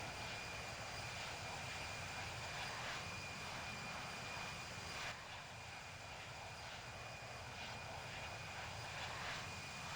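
Aircraft engine noise from the Infinite Flight simulator game on a Thomas Cook flight, a steady broadband drone with a faint high whine, continuous and even throughout, with no voices.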